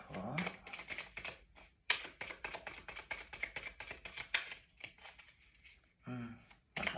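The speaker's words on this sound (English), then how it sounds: "Maybe one more shuffle." Tarot cards are shuffled by hand in a rapid series of crisp riffling bursts, close and fairly loud, broken by short pauses, with a brief voice heard near the end.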